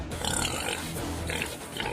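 Pigs on a farm with a herd of about 150 grunt and oink, several animals overlapping in a steady, close, moderately loud chorus.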